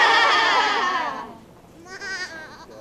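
Goats of several breeds, including Nubian and Alpine, bleat on a South Carolina farm: one long, loud, wavering call fades out, then a shorter, thinner bleat follows after a brief pause.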